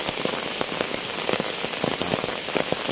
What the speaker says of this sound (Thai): อันนี้ก็บรรยากาศเช้าๆฝนตก